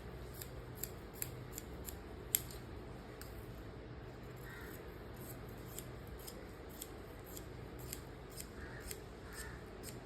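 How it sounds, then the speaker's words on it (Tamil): Scissors snip through blouse fabric along a curved marked line, a series of sharp, close crisp cuts spaced irregularly over quiet background hum. "இப்போ நம்ம இதை வெட்டி எடுத்துருவோம்."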